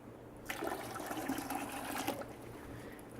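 Water pours steadily into a bucket hanging from a cantilever spring test rig, a rushing, splashing flow that starts abruptly, holds for about two seconds, then eases to a softer trickle.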